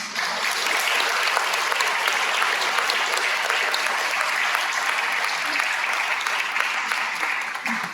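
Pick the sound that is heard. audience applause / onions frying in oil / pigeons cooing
audience applause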